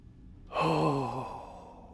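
A single deep exhale during a qigong breathing routine, a close, audible sigh-like breath out that swells and then trails off over about a second, with no talking.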